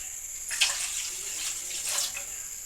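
Milk is poured into a pan while making kesari, a short liquid splash and stream heard close by in two brief surges over a steady faint hiss, with no talking.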